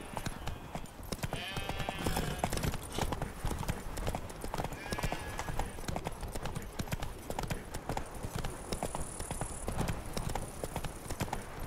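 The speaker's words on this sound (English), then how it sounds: "Whoa there, Roach" Horse hooves in The Witcher 3 video game, a dense continuous galloping clip-clop close and loud throughout, with brief snorts or whinnies mixed in.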